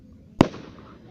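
A single firework bursts in one sharp, fairly loud crack, followed by a short fading rumble against a quiet night background.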